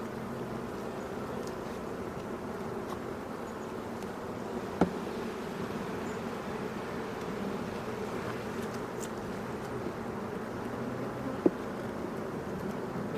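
Honeybees buzz steadily and densely at close range throughout a WBC hive inspection, a continuous droning swarm with a couple of faint clicks and no talking.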